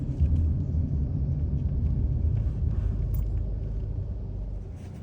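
Steady low engine rumble inside a moving taxi headed to a hospital, a continuous close drone of road and motor noise with no talking.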